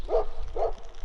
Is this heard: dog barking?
yes